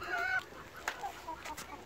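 Smallholding chickens scratching through soil give a few faint, brief clucks and soft calls close by, scattered over a couple of quiet seconds.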